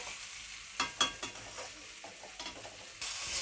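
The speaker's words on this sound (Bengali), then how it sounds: "দেখুন এটা আমি ভালো করে একটু ভালো মতনভাবে এটা নাড়াচাড়া করব" Potatoes for aloo dum are stirred in a sizzling pan: several quick scraping strokes of a spatula land over a steady frying hiss, which swells louder near the end.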